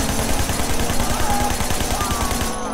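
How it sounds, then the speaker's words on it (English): Rapid bursts of gunfire ring out in Sleeping Dogs as a shooter fires from a moving car, a steady loud automatic rattle running almost unbroken over engine and street noise before cutting off at the end. "He's shooting out the car."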